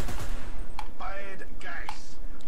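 A handful of sharp, separate gunshots come from a player's gun in the online shooter Dirty Bomb, fired with a Steam Controller. Loud shots are spaced unevenly, with brief tonal sounds between them.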